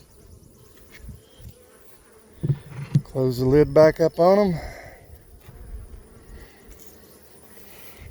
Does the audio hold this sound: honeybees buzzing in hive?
yes